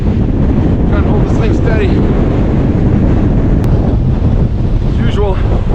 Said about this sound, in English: the wind is just whipping through the rigging and stuff and the fence.